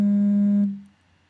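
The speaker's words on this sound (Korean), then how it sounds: "뭐 갑자기 전화가 오는 거야?" A steady electronic tone, like a telephone signal, holds loud and even for about two-thirds of a second and then cuts off, leaving near silence.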